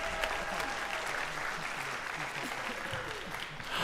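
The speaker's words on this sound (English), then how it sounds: "Yeah, give him a round of applause." Audience applause at a high school jazz concert, a steady, dense clapping that fills the room for a few seconds, with faint voices mixed underneath.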